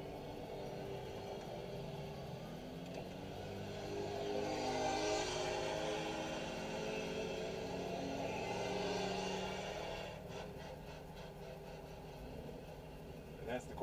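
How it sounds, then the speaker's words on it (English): Formula race cars run on a racetrack at a driving school, their engine roar swelling and fading twice as they pass at a distance beneath steady background rumble and talking. "Formula cars to our left,"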